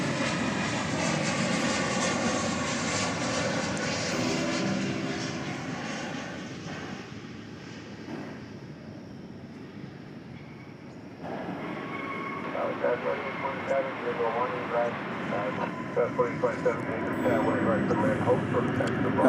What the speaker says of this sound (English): Here comes our first flight from Austin, Texas today.